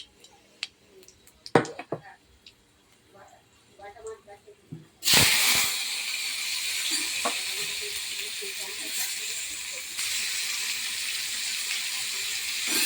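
Mango pieces go into hot oil tempered with spices. After a few quiet clinks and taps, a loud, sudden sizzle erupts and holds as a steady, bright hiss for the rest of the stretch.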